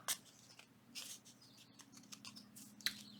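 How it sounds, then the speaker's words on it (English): Dull scissors chew through paper while making junk journal corner pockets, faint crisp snips and crunches coming in irregular bursts close by, with no talking. "these scissors are just chomping, just chewing it"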